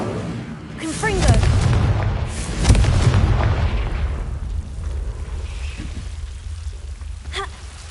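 Confringo blasting spell exploding in Hogwarts Legacy, a couple of heavy booming blasts with rumbling tails, loud and close, mixed with voice sounds and game effects.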